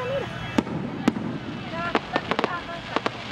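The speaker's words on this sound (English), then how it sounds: "we're watching the fireworks." Fireworks over downtown Florida burst in a series of sharp, loud bangs, a few spaced pops early then a quicker cluster of cracks, with faint crowd noise and whistling between them.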